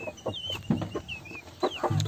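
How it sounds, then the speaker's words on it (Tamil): Chickens, including black, grey and red hens, clucking in a cage at a home, with several short, close clucks and squawks in quick, uneven succession. "இந்த கோழியை பார்த்தீங்கன்னா"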